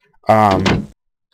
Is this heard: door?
yes